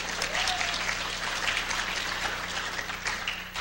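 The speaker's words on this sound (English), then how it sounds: "Come on, cheer for the guy." Steady applause from a conference audience in a large hall at DEFCON 13, filling the whole stretch with dense, even clapping and no talk over it.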